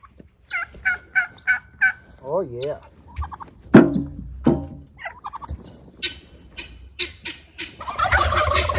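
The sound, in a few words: turkeys gobbling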